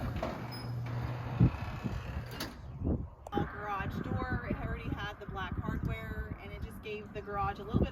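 A newly installed garage door on a renovated house rumbles as it slides shut in a short, low rolling movement ending in a thud, followed by someone talking.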